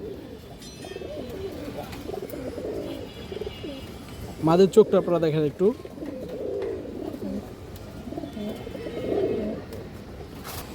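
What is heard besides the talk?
pigeons cooing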